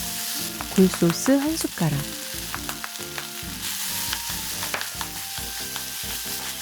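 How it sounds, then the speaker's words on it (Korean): Sausage and minced garlic stir-fry in a hot pan with a steady, close sizzle. Sharp spatula scrapes and clinks tap through it from start to finish, and no one talks. "다진 마늘 반 숟가락, 그리고 소세지 넣고 볶아줍니다"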